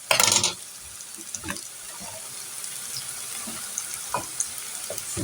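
Chopped onions hit a hot pan in a loud sizzling burst at the start, then settle into a steady quieter frying hiss with occasional scraping stirs, close by and without talk.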